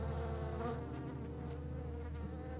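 Dense, steady droning buzz of many insects in a scorched desert area of the video game The Secret World, loud and continuous with a low hum underneath and no talking.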